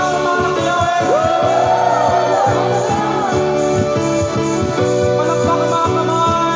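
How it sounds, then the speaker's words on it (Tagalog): A church congregation shouts and cheers together over loud music with rhythmic beats, voices rising in unison, energetic and close. "Sumigaw ang mga anak ni Yahweh."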